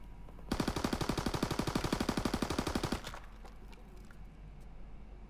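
Rapid automatic fire at a shooting range in Call of Duty WW2: one loud, close burst of about thirty evenly spaced shots over two and a half seconds, then a fading echo and quieter ambience.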